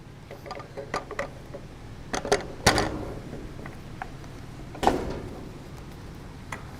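Remote actuator working the handle of a bolted pressure switch, giving a few sharp mechanical clicks and clunks spread over several seconds, close and fairly quiet against low background hum.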